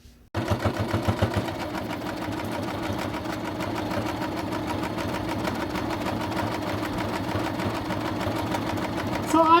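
A domestic sewing machine stitches a fabric neck warmer, running in a steady fast mechanical rhythm throughout, loud and close, with no pauses.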